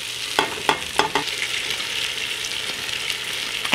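Fresh corn kernels are tipped into celery sautéing in a pot, with a handful of quick clattering drops near the start over a continuous close sizzle that carries on alone afterward.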